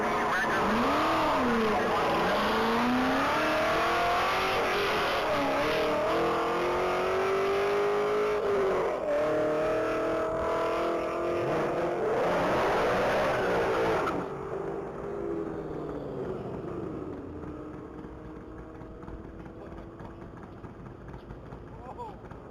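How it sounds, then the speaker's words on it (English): A 2004 Corvette Z06 accelerates hard on a top-speed mile run at a racing event, its engine note climbing loudly through repeated gear changes before fading as the car pulls away into the distance. "car 190 is on the line. That's going to be a 2004 Corvette Z06"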